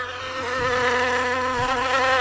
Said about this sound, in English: Oh, bees. These insects sting and inject poison in the body.